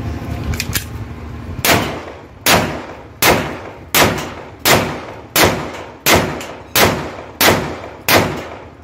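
A Pakistani-made 30 bore Desert Scorpion pistol fires about ten sharp, loud shots at a steady pace of roughly one every 0.7 seconds, each crack followed by a short ringing decay, with no talking.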